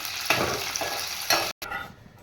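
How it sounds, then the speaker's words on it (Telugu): Raw prawns with turmeric fry in a pan, giving a close, steady sizzle with two bursts of stirring scrapes, then a brief cutoff before the sizzle resumes more quietly. "ఈ రొయ్యలు ఆల్రెడీ కొంచెం వేపి పసుపు వేసి వేపినివ్వండి"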